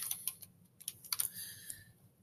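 Light typing on a Chromebook keyboard, a few sparse, soft key taps in an irregular rhythm, close by in a quiet room.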